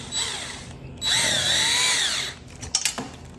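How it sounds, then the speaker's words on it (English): A cordless drill fitted with a 5mm Allen bit drives bolts on a DEWALT portable miter saw stand, giving short close whirring bursts with rising and falling pitch, followed by brief clicks and handling noise. "I have a 5mm Allen on the end of my drill"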